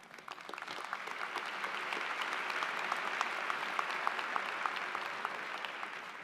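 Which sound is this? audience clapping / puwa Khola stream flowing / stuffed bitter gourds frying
audience clapping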